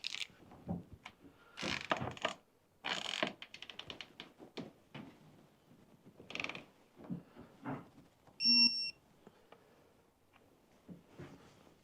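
A torque wrench tightens the compensator bolt on a Harley-Davidson, giving a run of mechanical ratcheting clicks and scrapes with a brief ringing metallic click near the end.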